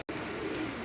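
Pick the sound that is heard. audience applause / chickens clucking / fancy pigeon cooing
fancy pigeon cooing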